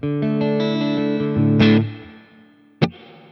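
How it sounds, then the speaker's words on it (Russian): Distorted electric guitar chords through the red spring reverb setting of a Boss Katana Air amplifier ring out, trailing into a splashy, boingy decay, then one sharp pluck sets off another reverb tail. "И слышно, что красный — это пружинный ревер."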